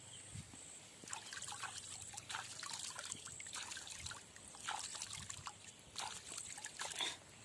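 Water trickling and splashing steadily as cucumbers are rinsed by hand, a close, continuous run of small drips and pours with brief louder splashes throughout.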